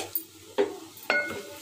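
Whole nutmeg, mace, white cardamom, bay leaf and cumin dropped into hot leftover onion-frying oil, giving a few quick sizzling bursts and light clinks against the pan.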